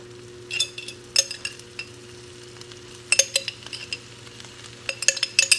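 Canned peas, cooked quinoa and tofu being stirred and warmed in a pan, with scattered scraping and clinking of a utensil against the pan over a low steady background hum, in irregular bursts with no talking.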